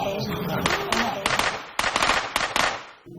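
A volley of sharp gunshot cracks, fired at colonists by soldiers, goes off in an irregular burst of about eight loud reports over a shouting crowd, with voices underneath throughout.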